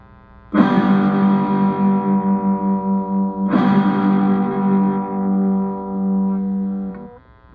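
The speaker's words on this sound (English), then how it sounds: "And now, what if I turn on the distortion?" A Power Gig toy guitar with its distortion effect switched on plays two long, buzzy, sustained notes, struck about three seconds apart, each ringing loudly with a rich harmonic drone that slowly wavers and fades before cutting off.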